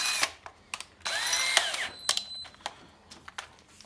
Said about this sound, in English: we put our drill on the little hole and start drilling again